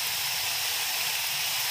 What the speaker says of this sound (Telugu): నూనె వేడి చేసుకున్నాము. ఓకే, నూనెలో మెల్లిగా ఎక్కువ ఎక్కువ కాకుండా రెండు మూడు అలా వేసుకుని